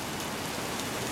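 Rain from a passing storm cell falls steadily onto and around a covered porch, a dense, even hiss of drops without pause.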